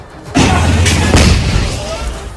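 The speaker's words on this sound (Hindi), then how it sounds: "लेकिन इसके कुछ ही देर बाद उस दुकान में दूसरा ब्लास्ट हो गया।" A second blast goes off inside a burning shop, a heavy boom at about a third of a second followed by a sustained roaring rumble, with another thump around one second that slowly fades.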